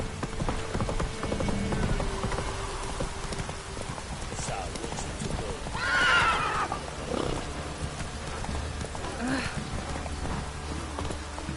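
In The Witcher 3, a horse's hooves clip-clop steadily beneath game ambience, and a neigh rises briefly near the middle. A voice speaks over it.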